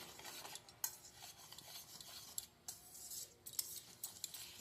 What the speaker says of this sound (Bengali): উপকরণগুলো আমি শুকনো অবস্থাতে ভালো করে মিশিয়ে নিচ্ছি